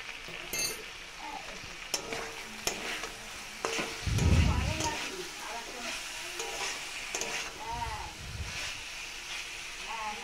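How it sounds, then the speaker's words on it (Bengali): Pointed gourd with poppy seed paste sautés in a pan, a soft steady sizzle with scraping spatula strokes and occasional clinks, under a quiet voice talking at times. "একসঙ্গে খানিকক্ষণ আবার কষাবো"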